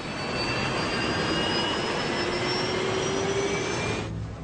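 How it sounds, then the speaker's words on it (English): Jet engine turbine of an airliner spinning, a loud steady roar with rising whining tones, continuous for about four seconds before cutting off abruptly, with no voices. "Jet engines contain turbines that make different sounds depending how quickly they're spinning."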